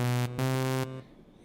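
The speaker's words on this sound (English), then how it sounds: "And if I open up the filter," Saw wave from a Reason Subtractor synth with the filter opened up, giving a bright, buzzy tone: two held notes separated by a brief dip, then a quick fade into near silence, with no voices.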